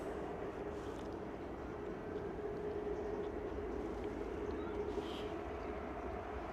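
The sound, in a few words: Ryanair aircraft taxiing, engines spooling up at Stansted Airport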